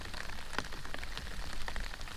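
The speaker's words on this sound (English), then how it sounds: "It's just raining here on me." Steady rain patters on nearby surfaces, a dense close hiss with scattered distinct drops striking, moderately loud and without voices.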